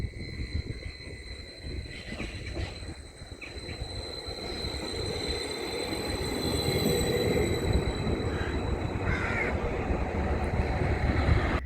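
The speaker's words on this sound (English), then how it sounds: "I await my train now" A train rumbles nearby at March station with a broad low roar and rattling, rising slightly in loudness, with faint squeals and scattered background noise.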